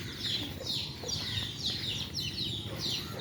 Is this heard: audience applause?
no